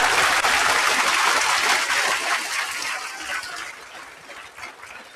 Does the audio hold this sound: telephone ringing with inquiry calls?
no